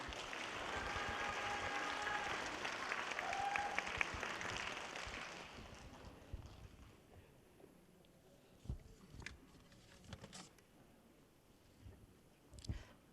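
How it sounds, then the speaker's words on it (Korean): Audience applause at a Gochang county cultural city designation briefing as the culture and arts department head takes the stage, a steady dense clapping for about six seconds that then fades, leaving a quiet room with a few scattered knocks. "과장님께 여러분 따뜻한 박수 보내주시죠."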